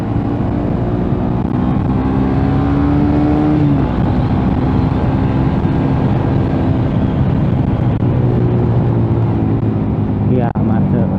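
A Suzuki GSX S150 motorcycle with a Quinze big-volume exhaust gives a loud, continuous droning engine note from close by, with slight pitch shifts as it rides on.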